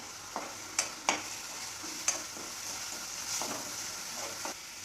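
Coconut-cashew paste and ginger-garlic paste fry quietly in a pan for paneer tikka masala, a soft steady sizzle broken by several sharp utensil scrapes and taps.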